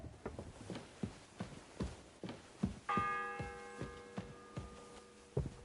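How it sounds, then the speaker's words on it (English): A single church bell rings out once with a long ringing decay in Kingdom Come 2, over a steady rhythm of muffled clip-clop hoofbeats. "The fourth bell."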